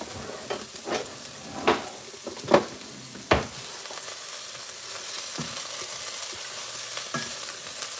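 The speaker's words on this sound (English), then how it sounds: "saute the carrots for a few minutes, just until it softens a little bit" Carrots sauteing in a pan for a salmon teriyaki pad thai, a steady soft sizzle with a few sharper scrapes and knocks from stirring early on, close and without talk.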